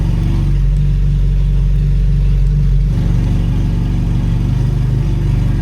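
A car engine with electronically controlled exhaust valves opened by remote, held at a steady loud rumble that swells slightly around midway, with no talk over it.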